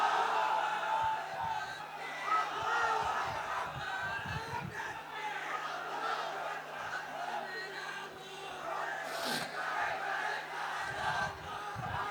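A large crowd at an outdoor Islamic sermon chants takbir responses in unison, a sustained roar of many voices that swells and surges throughout, heard from a distance with some mic hum.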